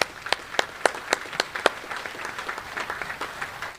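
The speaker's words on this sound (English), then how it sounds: "give Command Sergeant Major Harris a round of applause" Audience applause at a U.S. Army Contracting Command change of command ceremony, with a few sharp individual claps up front giving way to dense, steady clapping from the crowd for a few seconds.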